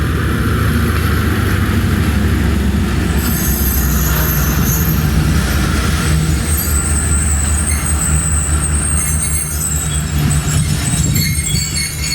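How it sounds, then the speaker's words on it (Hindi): Train at Landhi railway station in Karachi, a loud steady rumble of railcars close by with high squealing wheels and metallic screeches throughout, continuous and without talk. "ट्रेन रुक चुकी है और कुछ मिनट बाद यहाँ से रवाना होगी।"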